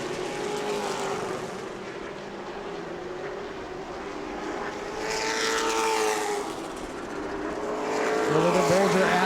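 Race cars roaring around the New Smyrna oval in a short-track race, a steady engine drone that swells as cars pass close, growing louder toward the end, with no talk.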